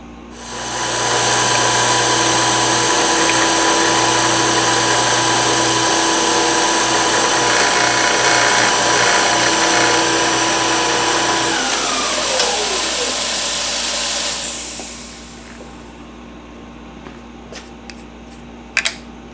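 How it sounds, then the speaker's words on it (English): Small end mill cutting a wide screwdriver slot on a South Bend 11 lathe setup, a loud steady machine whine for about thirteen seconds that winds down, followed by quiet with a few faint clicks. "I'm going to mill a screwdriver slot in the top of this"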